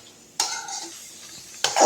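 Spices being stirred in a dry pan while roasting for sambar powder, with two short bursts of scraping and rattling separated by a quieter stretch of faint rustling, close and alone.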